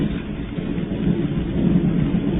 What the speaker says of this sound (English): The air seems charged with thunder,